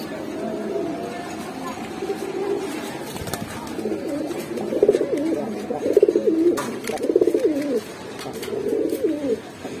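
A pair of big black dobash pigeons, a male and a female, cooing in repeated rolling phrases at close range, with a person talking over and between the calls.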